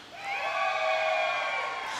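Roller derby crowd answering with a rising cheer and whoops, a moderately loud burst that swells after a brief pause and holds for over a second before easing.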